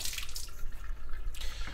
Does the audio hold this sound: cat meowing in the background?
no